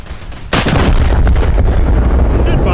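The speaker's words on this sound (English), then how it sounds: "12 gun broadside" A twelve-gun cannon broadside in the naval combat game Sons of Attila erupts suddenly after a quiet moment, a loud rolling barrage of overlapping booms and rumbling blasts that sustains without letup to the end.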